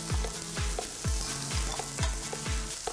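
Onions sauté in a pan with a constant sizzle, punctuated by a regular series of low thumping stirs or tosses roughly every half second.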